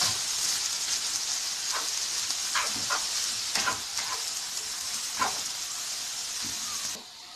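Bacon fries in a pan, rendering its fat for Chinese-style fried rice, giving a steady loud sizzling hiss throughout, punctuated by occasional scraping stir clicks, before the sizzle drops noticeably at the very end.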